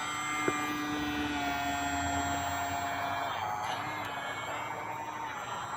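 A Hobbyzone Aeroscout S2 RC plane flying overhead, a continuous mid-distance electric motor whine and airflow hum with slowly shifting pitch, steady throughout with no talking.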